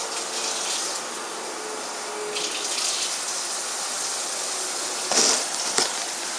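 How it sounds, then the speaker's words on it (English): Cold water is poured into homemade baking powder biscuit mix, a steady hissing wash of liquid that swells briefly near the end, with no talking. "Now, add our water for the milk. 3/4 of a cup of cold water."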